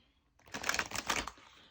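Tarot cards are shuffled by hand after a quiet start, a quick run of soft riffling flaps and slaps lasting about a second, close and fairly faint.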